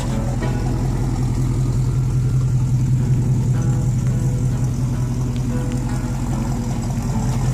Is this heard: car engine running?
yes